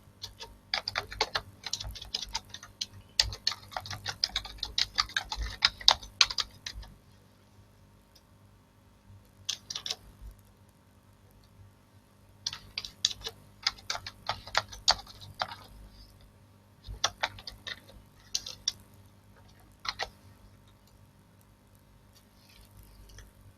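Keys on a computer keyboard clatter in quick bursts of close, crisp taps while text is typed in Photoshop, with a few quiet pauses between the bursts.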